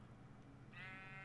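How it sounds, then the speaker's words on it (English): A sheep in Minecraft gives a single short bleat, close and clear, rising briefly over a faint steady background. "Shut up, sheep"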